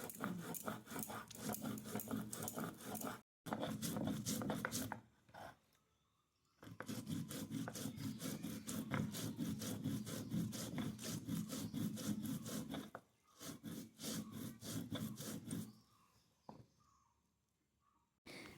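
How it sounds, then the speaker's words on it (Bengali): Spices are ground into paste on a shil-nora stone, the grinding stone scraping back and forth in quick rhythmic strokes in bursts separated by short pauses. "আমি শিলনোড়াতে পেস্ট করে নিব"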